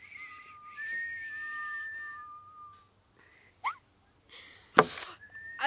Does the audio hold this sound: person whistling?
yes